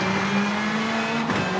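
Rally car engine in the V-Rally 4 racing game, a steady loud drone with a constant pitch under a wash of road and wind noise, with a brief dip near the end.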